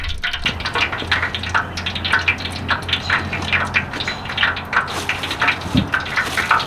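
Water bubbling and crackling in hot frying oil heated for fresh-cut french fries, a dense, steady sizzle of rapid pops, close and continuous.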